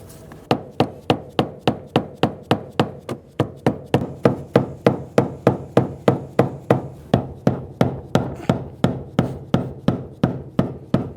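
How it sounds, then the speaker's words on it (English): Steady metallic hammer strikes on a punch turning a fuel pump lock ring on a Honda Pilot, about three per second, loud and close, continuing in an even rhythm throughout. "use your hammer and punch and get it to 69 foot-pounds"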